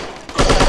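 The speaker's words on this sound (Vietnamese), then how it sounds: "có tiếng súng đằng sau" Rapid automatic gunfire from the Striker shooting video game erupts suddenly after a quieter moment and continues as a loud, dense burst with no talking.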